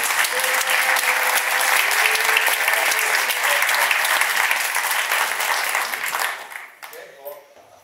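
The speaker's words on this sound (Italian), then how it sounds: "Fate l'applauso un'altra volta." Theatre audience in Ripatransone applauding a live comedy show, dense loud clapping that holds steady for about six seconds before thinning out and fading into scattered claps.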